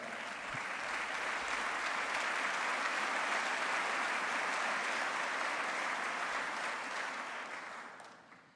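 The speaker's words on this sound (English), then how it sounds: "I'd ask you to stand and get another round of applause" A standing audience at a mayor's State of Metro address applauds in a long, even ovation of many hands, fairly distant and steady before fading out at the end.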